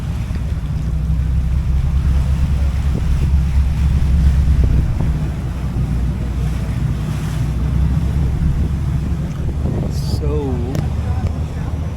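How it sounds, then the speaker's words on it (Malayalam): A ferry ride on the sea leaving Sorrento, Italy, with steady rushing waves against the hull and heavy wind buffeting the microphone, a low engine drone beneath, and brief birdlike chirps near the end. "ഇത് ബോട്ടല്ല, ഇത് ഫെറിയാണ് മച്ചൻ"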